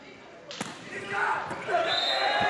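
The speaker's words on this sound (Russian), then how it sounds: "Судя по звуку, там, конечно, касание площадки было чуть раньше." A volleyball smacks the court during a Russia versus Cuba World League match: one sharp, clear impact early on, followed by steady crowd noise and a commentator talking.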